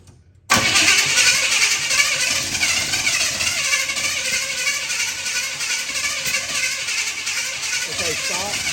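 Chevrolet Squarebody 4x4 truck with a newly installed intake and carburetor catches after a short silence once the distributor is adjusted, then runs loud and steady at a rough idle nearby, with no voices.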